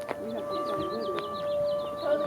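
A distant civil defense siren sounding at noon wails with a rising and falling tone, steady in the background, while birds chirp faintly around it.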